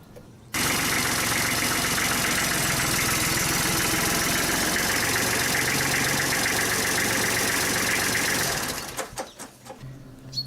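A Kubota B2100 compact tractor's engine runs loud and steady at close range for about eight seconds with an even, rapid chugging, then cuts off, leaving a few faint clicks and knocks.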